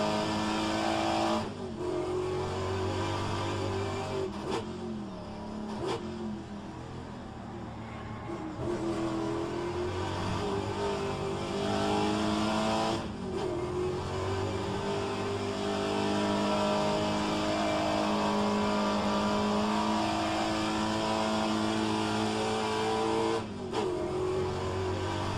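A race car engine revving through quick, early upshifts, a continuous nearby drone whose pitch climbs and then drops at each shift. Brief dips in the sound mark the gear changes.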